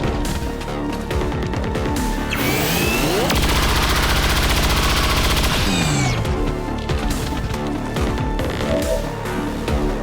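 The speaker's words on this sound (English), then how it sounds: "We'll bring our grenadier in for the first shot." A grenadier fires in the XCOM 2 video game. A loud, sustained burst of gunfire builds into a dense roar, surrounded by the game's constant background rumble and effects, with no talking.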